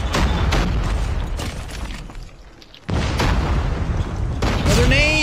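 Grenade blasts in a Call of Duty–style hardpoint match: a loud explosive boom, a lull of quieter gunfire, then another heavy burst of blast and debris over continuous game noise and shouting.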